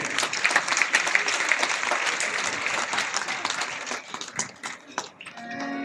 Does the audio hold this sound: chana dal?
no